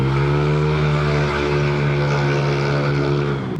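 A car engine with a loud aftermarket TRC Racing powerpipe exhaust and no remap drones steadily and close, its deep throaty tone holding nearly constant before dropping away at the end.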